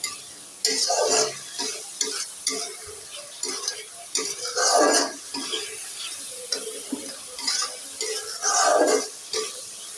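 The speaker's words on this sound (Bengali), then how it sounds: "এই দেখো লাস্ট পর্যায়ে মাছ ভাজি করে নিচ্ছে" Fish frying in a pan at a home stove, a close, steady sizzle broken by repeated stirring scrapes and light pan clatter, with no talking.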